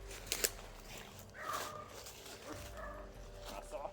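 Dog barking in short yips amid a busy outdoor scene, partly under people talking and background noise, with a couple of sharper bursts early on.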